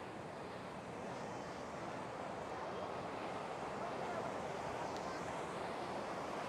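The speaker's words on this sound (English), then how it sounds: "here's the beach I was talking about now that we're up close and personal here" Steady ocean surf rolling onto Santa Monica/Venice beach, a continuous broad wash of breaking waves with some wind buffeting the microphone, moderately distant and even throughout with no clear pauses.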